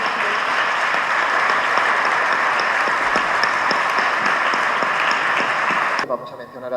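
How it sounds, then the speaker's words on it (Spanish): An audience applauds at a talk in Santiago de Compostela, honoring the families: a steady, dense burst of clapping from a large crowd that stops abruptly near the end. "le damos un aplauso por las familias"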